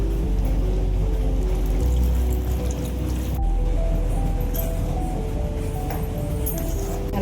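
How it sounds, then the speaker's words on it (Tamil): Tamarind water is poured into a simmering pot of dried anchovy curry with brinjal and jackfruit seeds, a continuous close liquid splash and trickle over a low cooking hum, with no talk. "புளித்தண்ணி ஊற்றிக்கலாங்க"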